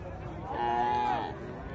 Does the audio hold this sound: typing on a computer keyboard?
no